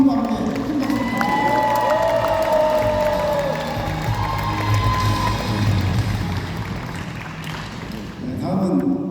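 A crowd at a provincial governor's town-hall meeting with Goheung residents cheers and applauds loudly, whoops and shouts rising over sustained clapping, with a brief dip before swelling again.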